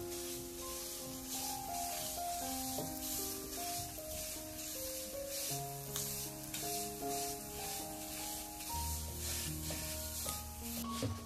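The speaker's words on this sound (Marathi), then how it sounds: "रवा आपला ना मस्त तुपामध्ये परतून घ्यायचा।" Semolina (rava) roasts in ghee in a pan while being stirred, giving a soft, steady sizzle with faint scraping. Quiet instrumental music plays over it the whole time.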